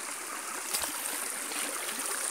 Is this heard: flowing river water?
yes